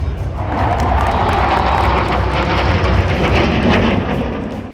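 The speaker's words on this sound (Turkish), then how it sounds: "İki adet F-16 savaş uçağının birlikte hünerlerini sergilediği uçuşta pilotlar telsizden halkı selamladı." Two F-16 fighter jets flying an aerobatic display at the Teknofest air show, a loud sustained engine roar that swells in and holds steady before cutting off, with no voices.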